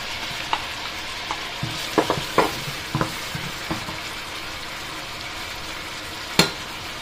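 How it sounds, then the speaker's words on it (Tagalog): Garlic, onion and ginger sauté in a hot pan, a steady soft sizzle broken by scattered clinks and scrapes of stirring, with one sharp louder knock near the end; no talk. "Lagay ko na yung bawang at sibuyas"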